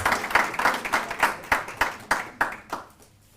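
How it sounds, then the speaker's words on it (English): A small audience at a youth conference gives another round of applause for Kidiboni, a short run of distinct, evenly spaced claps from a few people that quickly trails off to quiet. "Please can we give Kidiboni another round of applause?"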